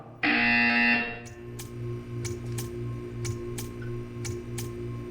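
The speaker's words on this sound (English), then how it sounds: "You will hear a buzzer." A loud, harsh electronic buzzer blares for just under a second in the video game Portal 2, then gives way to faint, irregular ticking clicks over a low hum.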